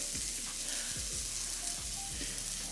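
Food sizzles and fries in a pan, a soft steady crackle with faint stirring or utensil taps, fairly quiet and close with no talk.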